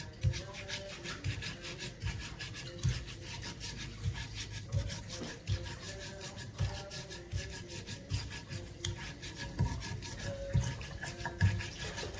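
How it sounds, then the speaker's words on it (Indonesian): Spices ground finely by hand for fried chicken serundeng, a steady rubbing, rasping scrape repeated in an uneven rhythm, close and fairly quiet, with no talking. "Sementara kita giling halus"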